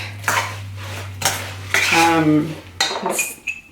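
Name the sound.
mixing BBQ green beans in a bowl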